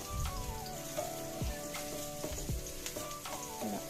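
Thinly sliced medium-sized onions fry over medium heat in a pan, giving a steady bubbling sizzle with occasional scraping stirs, close and moderately quiet.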